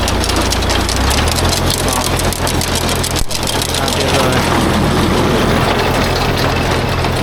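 The engine of a Karlik potato combine harvester rumbles loudly and continuously at close range during a potato harvest, a dense low drone with broadband mechanical noise; voices are faintly present beneath it.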